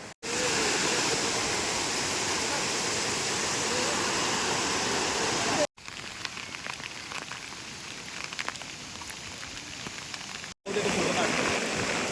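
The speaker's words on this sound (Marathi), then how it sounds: "खालून एक धबधबा वाहतोय" A waterfall roars steadily and loudly, a dense unbroken rush of falling water with a couple of brief cuts, and no talking.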